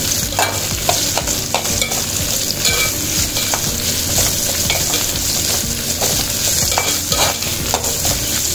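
Chopped big onion sautéing in oil in a pan, a loud continuous sizzle with intermittent stirring scrapes and taps, close up, no voices.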